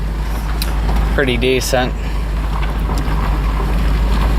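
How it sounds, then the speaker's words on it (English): An engine idles steadily with a homemade exhaust made from bits of old pipe clamped together, giving a constant loud rumble outdoors, and someone briefly talks over it. "I got a redneck exhaust hooked up."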